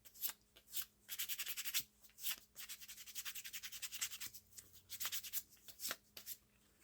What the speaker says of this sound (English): you can just kind of fine tune with some sandpaper at about 220 here